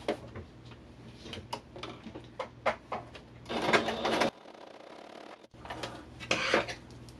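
A sewing machine stitches tiny snowballed squares onto the corner of a pumpkin quilt block, running in short rapid mechanical bursts with clicks between them, then pausing into near silence before briefly starting up again.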